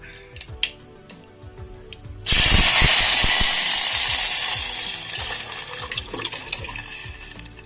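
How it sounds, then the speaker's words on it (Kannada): A few clinks and pops, then a sudden loud sizzle as ground tomato puree hits a hot oil tempering, slowly fading with stirring and crackling. "ಅದನ್ನ ನಾನು ಈಗ ಈ ಒಗ್ಗರಣೆಗೆ ಹಾಕ್ತಾಯಿದ್ದೀನಿ"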